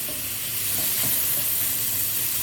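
Vegetables for chowmein fry in a hot pan while being stirred, a continuous loud sizzle with faint scraping strokes running through it.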